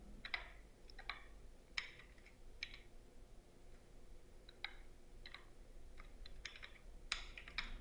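Typing on a computer keyboard, with scattered clicks and short bursts of keystrokes at an irregular pace, fairly faint over a low steady background hum.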